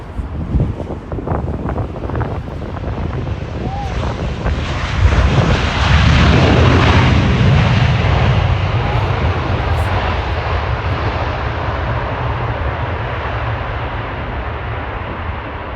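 American Airlines jet landing on runway 27R at London Heathrow, a loud broadband engine roar swelling as it passes close overhead, then slowly fading with a long rumbling tail and some wind buffeting on the microphone.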